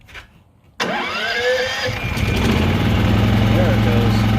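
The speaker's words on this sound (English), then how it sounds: "That's the first start. Preditor 9500 generator." A Predator 9500 generator engine catches on its first start: a brief quiet, then a sudden loud start that settles into a steady, close running drone, with a voice speaking over it.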